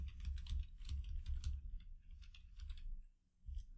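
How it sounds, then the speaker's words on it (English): Computer keyboard keys are pressed in quick, uneven bursts during a PC game, with close, dense clacking over a boomy low rumble that drops out briefly near the end. "I'm just going to press a few keys"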